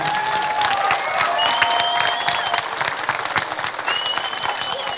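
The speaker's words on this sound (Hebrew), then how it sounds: "מגיע להם מחיאות כפיים." Loud, dense applause from a crowd at an elementary school graduation ceremony for the sixth grade classes, steady clapping with scattered whistles and cheers throughout.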